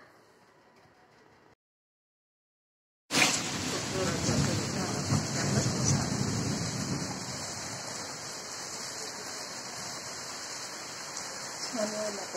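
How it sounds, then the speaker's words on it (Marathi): Heavy rain pours down at a temple during a sudden downpour on a hot day, bursting in abruptly after a brief silence and a faint earlier patch, then hissing loud and steady on surfaces with a low rumble beneath. "जोरात पाऊस सुरू झाला."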